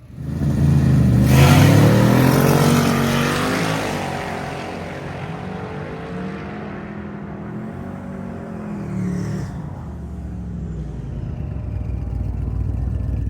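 An Elephant-engined Toyota Supra drag car launches and accelerates hard down the strip during a drag racing event, a loud rising engine roar that peaks early and then fades into a sustained drone as it pulls away.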